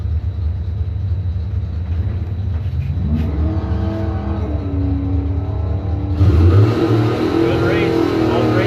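A Ford Mustang and a Chevy pickup drag race, the Chevy spinning its tires; a deep rumbling engine roar builds into rising revs, with an announcer talking over it.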